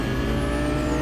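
A stolen car driving in the video game Cyberpunk: a steady, loud engine drone with road rumble, continuous throughout and heard alone without talk.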